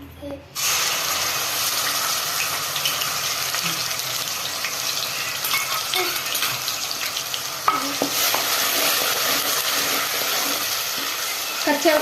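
Onion paste frying for a small-fish curry gives a dense, steady sizzle that carries on loud throughout, with a faint voice and a few small clinks beneath it.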